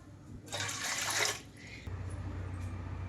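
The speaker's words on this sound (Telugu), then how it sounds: "ఈ గ్లాస్తో గ్లాస్ ఉన్నర వాటర్ అయితే వేస్తున్నాను" A glass and a half of water is poured into an idli steamer pot on high flame, a short, bright splashing gush that stops abruptly, leaving quiet kitchen background.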